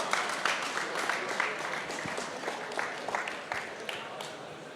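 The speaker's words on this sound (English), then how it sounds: "So please give him a round of applause." An audience at a market research congress awards ceremony applauds an award winner with sustained, dense clapping from a large crowd. The clapping is fairly distant.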